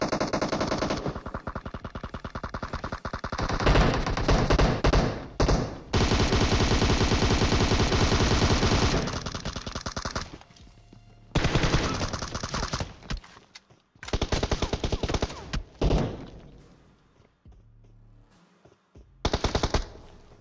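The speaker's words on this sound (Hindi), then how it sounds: "अब गोलियां चल रही है दबा के" Loud bursts of rapid automatic gunfire in PUBG Mobile come in long sustained volleys, broken by short pauses and a few quieter gaps, with no voices.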